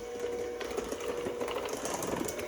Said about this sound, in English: with the hand mixer, you're just gonna blend it on just speed 1